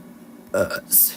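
A person lets out a loud, close, throaty burp with a short rough rumble, followed by a brief hissy breath, alone and without speech.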